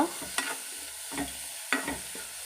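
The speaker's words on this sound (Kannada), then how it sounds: "ನಮಗೆ ಸುಮ್ಮನೆ ಸ್ವಲ್ಪ ಎಣ್ಣೆ ಒಳಗೆ ಫ್ರೈ ಮಾಡಿದ್ರೆ ಗರಿ ಆಗಿ ಚೆನ್ನಾಗಿ ಸಿಗುತ್ತೆ. ಅದಕ್ಕೆ ನಾನು ಈ ಥರ ಫ್ರೈ ಮಾಡ್ಕೊತಾ ಇದ್ದೀನಿ" Grated coconut and peanuts frying in a little oil in a pan off the flame, with a soft sizzle and three or four distinct scraping strokes of a spatula, close and fairly quiet.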